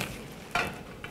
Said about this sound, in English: So today we're doing light frying.